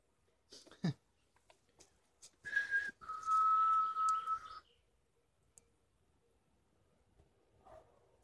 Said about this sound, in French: Je vais essayer de siffler.